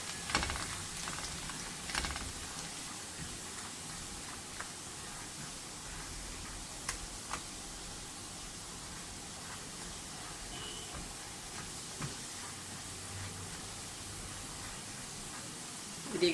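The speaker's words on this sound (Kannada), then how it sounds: "ಈಗ ನಾನು ಇದಕ್ಕೆ 2 ಟೇಬಲ್ ಸ್ಪೂನು ಗಾರ್ಲಿಕ್ಕನ್ನು ಚಾಪ್ ಮಾಡಿ ಇಟ್ಕೊಂಡಿದ್ದನ್ನು ಹಾಕ್ಕೊಂಡಿದ್ದೀನಿ. ಇದು ಚೆನ್ನಾಗಿ ಫ್ರೈ ಆಗಲಿ." Two tablespoons of chopped garlic fry in cooking oil for a spicy garlic chicken, giving a steady, quiet hiss with scattered small crackles and pops for the whole stretch, and no talking.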